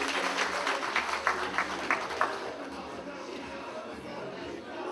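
Event crowd applauding the DJ at an Asante Kotoko gathering: a brief burst of scattered clapping with a few distinct claps early on, fading within a couple of seconds into a low hum of room noise.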